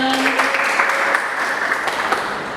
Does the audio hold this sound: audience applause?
yes